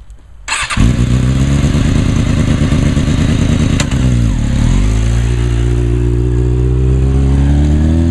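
A motorcycle engine starts and runs during a first riding lesson, settling into a loud, steady close idle with a brief throttle dip and recovery midway, no talk heard.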